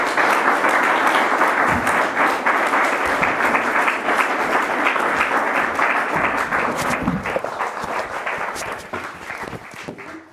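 An audience claps in steady, full applause welcoming Esther Perbandt and Sven Marquardt on the Astro Noir stage, loud at first and gradually thinning out toward the end.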